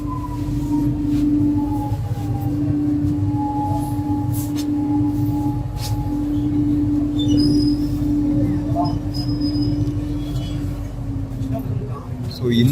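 A Chennai Metro train at Koyambedu metro station gives a steady electric hum and drone with a sustained tonal whine and faint squeals over the rolling noise.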